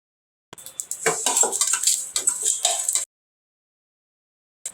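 Whole spices are dry roasted in a pan on the stove, giving a quick burst of rattling, scraping clatter for a few seconds, then silence with one last faint tap.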